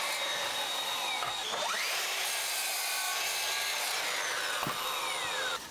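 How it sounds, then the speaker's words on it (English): Wood scraps are cut to length on a miter saw: a loud, continuous motor whine with a rising and falling pitch as the blade bites and runs down, with no speech. "I'm going to get some scraps, cut on the miter saw to length"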